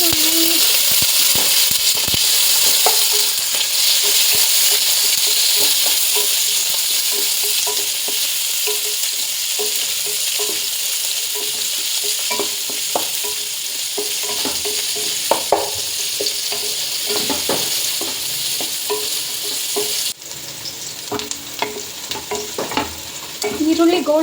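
Onions sizzle in hot oil alongside bay leaf in a pan for avare kallu palav, a continuous close frying hiss with frequent scraping clicks of a spoon stirring throughout.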